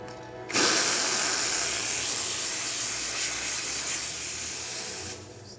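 A steady, loud hiss of steam jets from an espresso machine wand for about five seconds, starting and stopping abruptly.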